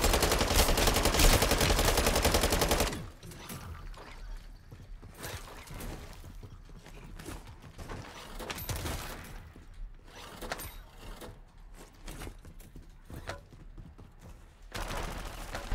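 A loud burst of rapid SMG fire in the Modern Warfare 3 Zombies shooter, then quieter scattered shots, mechanical clicks and clatter continuing, with another loud burst near the end.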